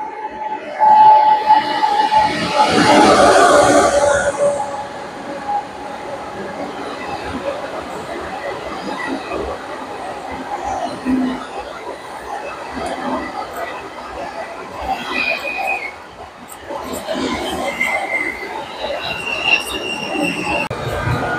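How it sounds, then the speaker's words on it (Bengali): A train pulls into a station platform in South Korea, its rumble and squealing wheels building to a loud pass early on, then settling into a steadier roll, with voices chatting nearby. "এই ট্রেনটা আসছে"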